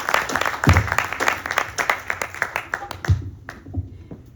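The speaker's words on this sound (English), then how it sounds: "Please give him another big round of applause." Audience applause at a Ganesh Chaturthi Utsav religious gathering, a burst of hand clapping from a crowd that thins out and fades toward the end, with some scattered individual claps standing out.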